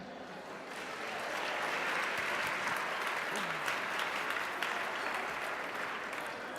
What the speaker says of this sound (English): I love applause